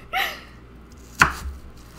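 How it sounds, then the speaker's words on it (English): A knife strikes a cutting board twice while cutting onions for a stir fry, two sharp isolated chops about a second apart in a quiet kitchen. "If you don't like how I'm cutting the onions, I'm sorry."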